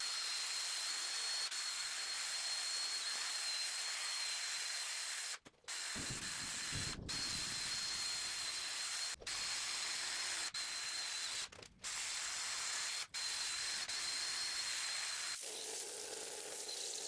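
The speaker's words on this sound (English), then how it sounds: "I'm coming in now and giving a fresh coat of paint on this." An aerosol can sprays a continuous loud hiss of engine enamel paint onto a BMW M50 engine block, in long bursts broken by several brief pauses, close and without talk.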